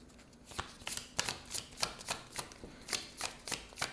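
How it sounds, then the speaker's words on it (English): A Sacred Symbols card deck being shuffled by hand, a close, quiet series of crisp riffling bursts repeating in a steady rhythm. "I'm going to pull from the Sacred Symbols deck next."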